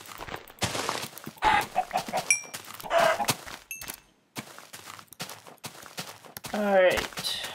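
Minecraft chickens cluck and squawk in short bursts across the stretch, mixed with other choppy game sounds, one louder cackle near the end.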